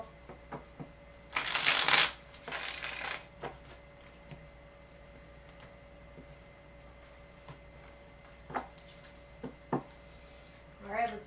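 A brief, close riffle of cards being shuffled, followed by quiet shuffling taps and scattered soft clicks in a still room.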